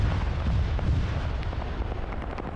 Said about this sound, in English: These guys are doing long-range rocket strikes.